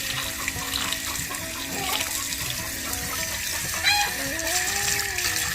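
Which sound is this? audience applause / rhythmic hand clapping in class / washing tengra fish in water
washing tengra fish in water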